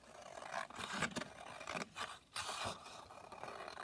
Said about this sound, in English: I'm just going to trim that down